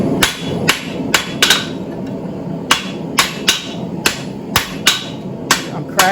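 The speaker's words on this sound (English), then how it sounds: "I'm cracking it, popping the scale off, hammer polishing." A blacksmith's hammer strikes hot steel tongs on an anvil, knocking the scale off in a series of sharp, ringing metallic blows at an irregular, fairly quick pace over a steady workshop background.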